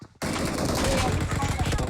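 Machine gun fire in BGMI (Battlegrounds Mobile India): after a brief quiet moment, a loud, continuous burst of rapid automatic shots fills the rest of the clip with dense, unbroken rattling.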